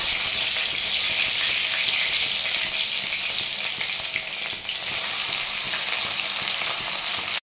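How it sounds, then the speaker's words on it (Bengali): Fish rubbed with salt and turmeric frying in hot oil in a home kitchen, giving a loud, continuous close-up sizzle and crackle that holds steady throughout, with no voices. "চলো এবার ফটাফট মাছগুলোকে ভেজে ফেলি।"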